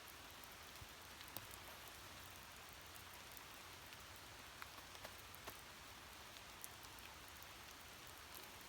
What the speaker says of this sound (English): Definitely raining today.